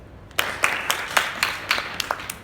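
Scattered audience clapping at a student talk on rape culture: a handful of sharp, distinct claps in an irregular rhythm, fairly close and not a full ovation, with no voices.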